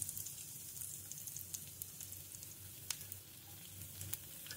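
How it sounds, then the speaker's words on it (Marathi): Hot oil sizzles steadily in a pan while cumin and garlic go in for a village-style dill greens dish, with a continuous close crackle and scattered small pops and no talk. "त्यामध्ये मी आता तेल टाकून घेतलेले आहे. थोडे गरम झाले की आपण त्यामध्ये जिरी,"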